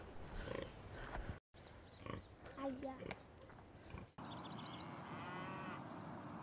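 Pigs grunt and oink in an indoor sty on a rural indigenous community farm, short calls scattered among other animal and ambient sounds, with a break in the recording partway through.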